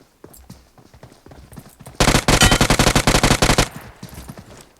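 A loud, rapid burst of automatic gunfire in PUBG Mobile lasts nearly two seconds, set between quieter background game sounds and scattered smaller noises.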